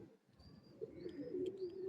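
High-flyer pigeons coo softly nearby in a low, throaty murmur, with a few faint chirps above, no voices.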